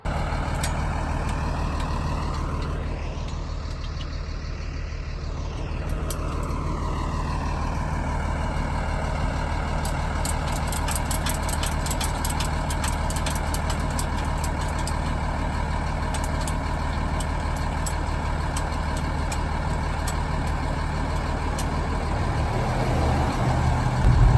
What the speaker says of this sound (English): Truck being towed by a tow truck.